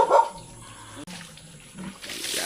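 Cold well water splashes and pours during an outdoor bath, a few close sloshing bursts with a brief dump of water at the start and softer trickling afterward.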